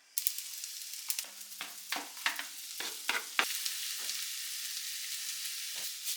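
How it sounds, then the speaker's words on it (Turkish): Butter melts and sizzles steadily in a pan, a soft constant crackle broken by sharp pops and spits, fairly quiet and close with no talk over it. "tereyağı eritmeyi çok seviyorum"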